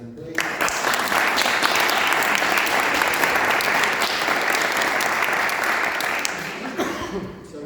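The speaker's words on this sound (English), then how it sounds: "Round of applause for them, please." Audience at a panel discussion on poverty in Norfolk applauds the organising team, a burst of clapping that swells quickly, stays full and loud for several seconds, then tapers off with a brief voice near the end.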